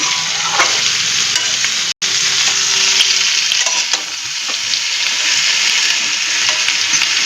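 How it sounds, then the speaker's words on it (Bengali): Shukto vegetables being stirred in a heavy, loaded kadai, a loud close sizzle with scraping and stirring strokes running continuously, broken once by a momentary gap. "কারণ এখন কড়াই অনেক সবজি চলে যাচ্ছে, একটু ভারী হয়ে যাচ্ছে, একটু ভালো করে নাড়িয়ে দিই"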